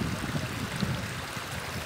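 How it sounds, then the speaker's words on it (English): At the Maras salt ponds in Peru, water runs through a narrow rock channel, giving off a steady close rushing and trickling wash with no pauses. "He's moving rocks to start the flow of water."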